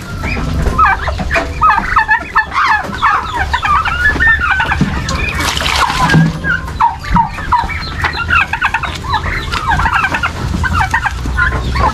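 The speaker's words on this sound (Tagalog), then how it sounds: "Yan po ang ating mga alagang pabo, bibi at peking duck." A crowd of turkeys gobbles while domestic ducks and Pekin ducks cluck and quack continuously, loud and close, with overlapping calls throughout.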